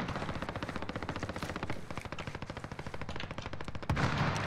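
Sustained automatic gunfire in a shooter video game, a dense, loud stream of rapid shots with no pause, ending in a heavier burst.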